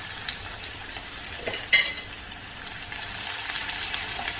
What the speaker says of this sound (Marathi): जेवढा बारीक कापता येईल ना तेवढा बारीक कांदा कापून घ्यायचा आता परतून घेऊया